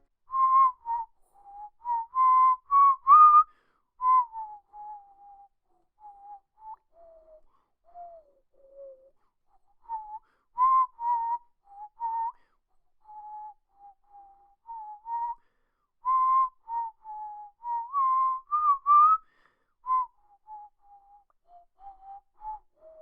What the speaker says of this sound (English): anytime you need our guidance, just whistle.